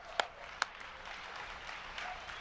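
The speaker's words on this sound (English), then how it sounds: "So give Joy a huge round of applause." An audience applauds in a room for a workbook author, opening with two sharp close claps before a softer, sparse spread of clapping that continues at a modest level.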